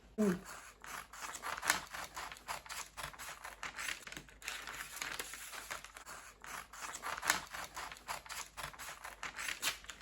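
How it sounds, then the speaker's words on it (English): Scissors snip through dress fabric along a marked gathered-dress pattern with an under-bust basque waistline, making a steady run of close, crisp clicking cuts with short pauses. "What I'm going to do right now is to cut it out."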